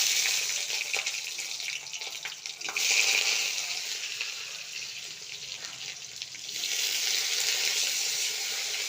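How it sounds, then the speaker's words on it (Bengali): Eggplant, bitter gourd and okra go into hot oil in a kadai together, giving a continuous, fairly soft hissing sizzle that swells and eases slightly over nine seconds, with no talking. "কড়াইতে তেলটা গরম হয়ে গেছে, এবার আমি বেগুন, উচ্ছে, ভেন্ডি সব একসাথে দিয়ে দেবো।"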